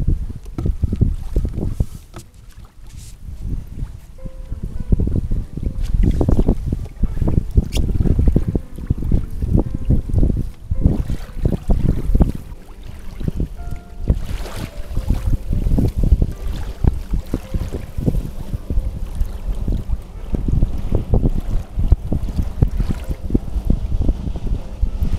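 A kayak fishing trip ends with sailing home under wind power, giving a steady, close wash of water and wind rumble with gusty buffeting across the whole stretch and no talk.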